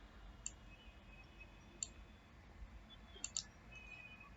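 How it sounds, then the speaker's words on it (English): A computer mouse button clicked while building a WordPress page: four faint, sharp clicks, the last two in quick succession, over low steady room hiss. "So let me click on this button."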